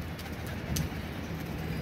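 Pigeons coo softly in a low, murmuring drone kept for hobby, faint and somewhat distant under steady background noise.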